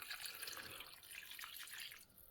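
Water pours into a pot of Burmese soup with garlic, ginger, cloves and cardamom, a soft, continuous splashing stream that runs steadily and then tapers off near the end.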